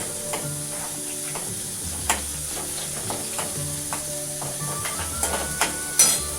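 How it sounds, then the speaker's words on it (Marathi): Chopped onion and green chili sizzle steadily in hot oil in a pan, a close, continuous frying hiss broken by occasional soft clicks of stirring, with no voices. "आता आपण त्यामध्ये कांदा टाकू. कांदा मिरची एकत्रच टाकते."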